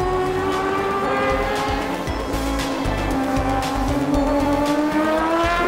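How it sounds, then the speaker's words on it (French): A loud rotary-engine race car screams at high revs at Spa-Classic, a sustained buzzing tone that climbs steadily in pitch as it accelerates. "l'incomparable son du moteur rotatif"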